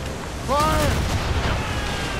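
Ship cannons in Assassin's Creed Rogue fire during a naval battle with a gunboat, heavy booms rumbling under shouted voices and rising cries amid the chaotic onboard din.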